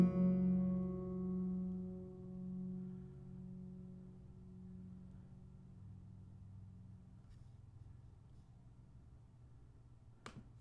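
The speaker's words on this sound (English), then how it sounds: "this original recording has been taken down an octave using classical speed change" A recording transposed down an octave by classical speed change, with everything slowed to half speed, plays as a deep, drawn-out low tone that slowly fades, followed near the end by a brief sharp click, with no talking.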